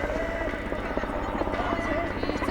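A helicopter flies overhead in the midwest with a steady, close rhythmic rotor thumping, continuous and fairly loud throughout, without talk.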